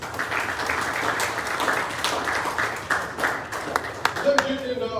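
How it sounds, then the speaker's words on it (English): A crowd at a high school boys basketball banquet claps steadily and continuously, a dense patter of many hands with a few louder claps near the end. "So I would like to give a round of applause to the players."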